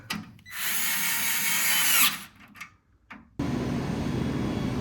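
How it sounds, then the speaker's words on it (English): An electric screwdriver whirs close and loud while working on an IBM S/390 Multiprise 3000 mainframe. A long whine is followed by short bursts, then a steady lower running hum. "I forgot I had this sonic screwdriver here with me, and it's making the job so much easy."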